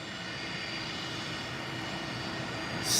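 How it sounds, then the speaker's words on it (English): A small aircraft's engine drones steadily at an airfield before taxiing, a constant medium-loud hum that swells slightly near the end, with no talking. "Let's focus on this little aircraft a bit."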